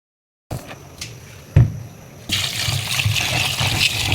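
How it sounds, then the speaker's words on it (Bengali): Large prawns are rinsed with water: after a brief silence comes trickling and splashing with a few sharp knocks, then a steadier flow of running water. "এগুলো এখন ভালো মতন পানি দিয়ে ধুয়ে নিব"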